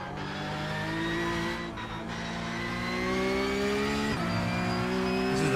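A Porsche Cup 992.2 race car in iRacing on the Nordschleife, its engine howling loud and close through rising gear pulls with a quick shift and brief tire squeal.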